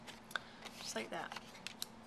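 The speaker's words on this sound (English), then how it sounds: "you're just going to want to cut up on each one of these sides so that you can make the bottom of your box." Paper snips cut up the sides of paper for a homemade treat box, making short crisp snips close by while a person talks quietly.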